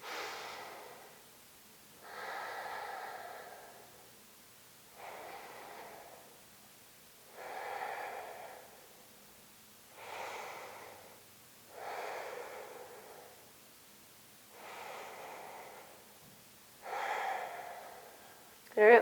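Slow, steady breathing held through a yoga lunge pose, about eight soft airy inhale-exhale cycles at an even pace, close and quiet, with no talking.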